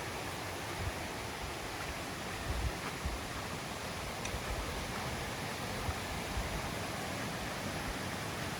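Deep Creek flowing along a mountain trail, a soft, steady rush of moving water that holds an even hiss from start to finish with no talking.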